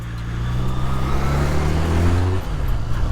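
A Honda CB250 twin motorcycle engine runs through the gears, a close, steady drone that climbs in pitch, then drops sharply near the end as the next gear is taken and builds again, with no talk.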